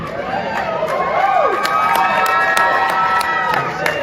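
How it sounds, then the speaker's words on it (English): A comedy show audience roars, with cheering, whoops and shouts rising and falling continuously, loud and close, with a few sharp claps poking through the crowd noise. "No, don't clap"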